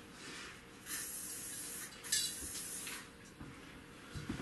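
Full Dip aerosol can with an adjustable nozzle releases soft, faint hissy spray bursts, brief and uneven, with quiet handling noises between them.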